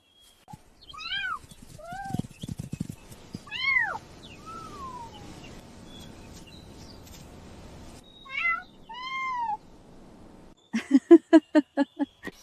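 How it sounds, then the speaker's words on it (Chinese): Two kittens meowing in repeated high, rising and falling cries, close and clear, with a brief burst of rapid chirping calls at the end. "他们是当年大猫生下的那2只小猫崽儿"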